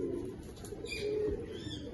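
A pet pigeon coos softly and briefly nearby, giving a low, throaty call over a quiet background.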